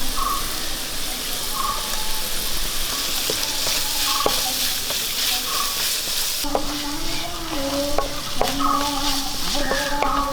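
Ginger garlic paste sizzles with onions in a frying pan for a Kerala tapioca and egg dish, giving a constant loud hiss with occasional scraping stirs and clinks close by.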